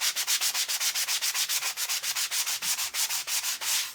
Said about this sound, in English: now I'm just taking my sander and just kind of going over all of it and making it look more vintage